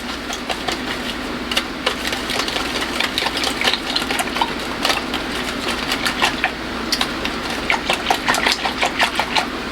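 Kitchen appliance whirs steadily while mixing milk, sugar and cream cheese for a Ninja Creami base, a constant motor hum with rapid fluttering clicks and rattles over it, close and continuous without talk.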